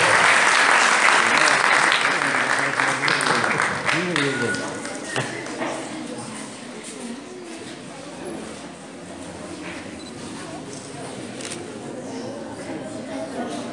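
Audience applause at a school awards ceremony for a middle-school storytelling contest in Larache, where shields and prizes are handed out. Loud, dense clapping fills the room at first, then thins and fades as voices take over.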